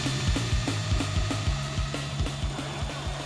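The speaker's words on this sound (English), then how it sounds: "now we have a maxed out drill. So more power and more speed, which is perfect for spinning this massive top" Maxed-out power drill spinning a massive top, a steady motor whine and hum overlaid with rapid rhythmic clicking or knocking pulses, close and fairly loud with no voices.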